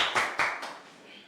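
A classroom of students applauds a classmate after his speech, a brief burst of hand claps that swells twice and quickly fades.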